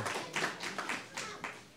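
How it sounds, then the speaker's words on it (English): A small group of tree-planting volunteers clapping at a teaching seminar, a short burst of sharp, distinct claps fairly close by, rising and fading over under two seconds. "Give yourself a round of applause for being here"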